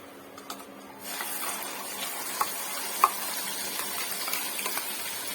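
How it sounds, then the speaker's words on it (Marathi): Spice paste with cumin and asafoetida sautéing in a pan for bitter gourd masala, a soft steady sizzle with occasional light clicks of a spoon stirring, faint and close. "वाटण छान आपण परतून घेऊया"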